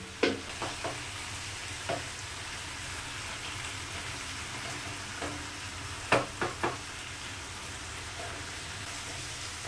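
Bottle gourd cooking down in a pan, a steady close hiss of sizzling with occasional sharp scrapes and taps of a spoon stirring, no voices.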